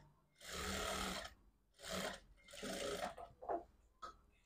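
A sewing machine stitches a blouse seam in bursts, three loud runs of about a second each with short pauses, then a couple of brief softer stitches, close and without talk.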